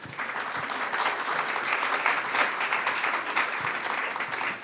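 Sustained applause from an audience, steady and dense clapping throughout with no pauses.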